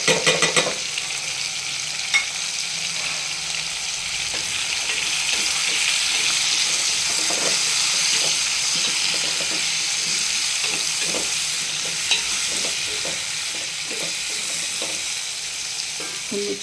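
Turmeric powder and asafoetida sizzle in hot oil in a pan for mango sambar. A steady, fairly loud frying hiss runs throughout, with occasional light stirring ticks and no voices.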